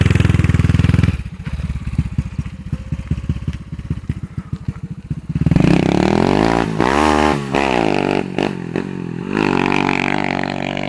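A Kymco Jetix motorcycle's small engine sputters with a rapid pulsing idle, then revs loudly and climbs through several throttle blips, close and dominant throughout.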